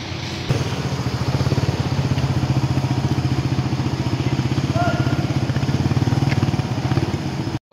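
A motorcycle is ridden aboard an old ship at a Batangas pier, its engine chugging in a steady low pulsing rumble close by, with faint background clatter and voices.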